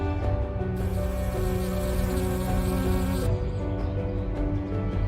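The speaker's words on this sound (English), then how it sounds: "An angry swarm of black bees erupts" A dense, loud insect buzz drones continuously, like a swarm of angry black bees humming close by with no pauses.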